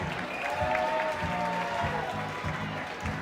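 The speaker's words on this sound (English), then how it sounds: "Give them a round of applause." An event crowd in Wichita Falls applauds artists taking the stage, sustained clapping over a rhythmic low musical pulse and a faint tonal line in the background.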